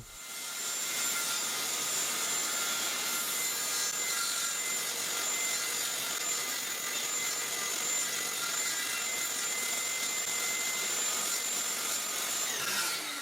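A table saw trims the edge of a wooden circle on a circle jig, a steady loud whining drone running without a break for about twelve seconds before cutting off at the end.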